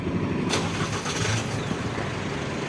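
An Isuzu MU-X 2022 engine cranks via an installed push-start button and catches, then settles into a low, steady running rumble; fairly quiet overall.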